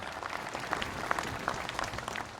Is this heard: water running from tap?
no